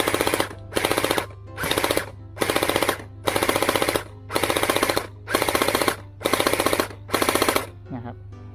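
A gel blaster toy gun fires rapid bursts at a target, about ten evenly spaced rattling volleys separated by short pauses, loud and close over a steady low hum.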